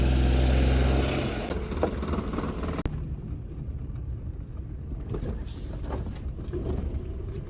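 A car engine rumbles loudly at first and then settles into a quieter, steady running hum inside the vehicle, with faint clicks and knocks.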